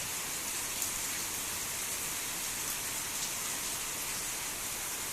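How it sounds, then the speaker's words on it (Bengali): Heavy rain pouring down, a dense, even, unbroken hiss of rainfall close by and loud throughout, with no voices. "সত্যি বৃষ্টিটা দেখে প্রচণ্ড নেমেছে।"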